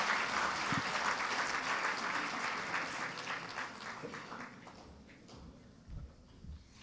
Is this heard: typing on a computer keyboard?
no